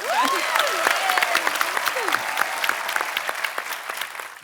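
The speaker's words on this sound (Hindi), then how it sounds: "हमारी भाभी के लिए जोरदार तालियां।" Studio audience applause on a Hindi TV comedy show, brisk and sustained clapping with a few whooping vocal sounds near the start, steady throughout.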